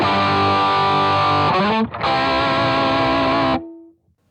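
Electric guitar played through a Kemper amp profile, Live Ready Sound 79 Champ 808, with a completely dry tone and a mildly distorted edge; a sustained chord rings loud and close, shifts briefly, then rings on before cutting off.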